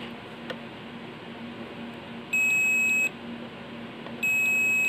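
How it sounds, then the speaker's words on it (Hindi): A multimeter's continuity beep sounds while probing for a short in an LED TV, two steady, piercing electronic tones each lasting about a second over a low electrical hum, with a faint click between them. "बीप की आवाज सुन पा रहे हैं।"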